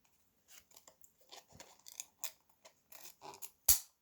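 Jagged scissors snip through a fabric mask insert in a run of short, crisp cuts, close and quiet. Irregular clicks end in one sharper, louder snap.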